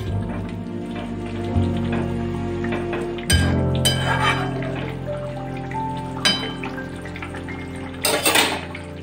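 Metal spatula clinks and scrapes against a pan as coriander leaves are stirred into tangra fish curry cooked with spring onions, several sharp clanks over a steady sizzle, near and clear, with no voices.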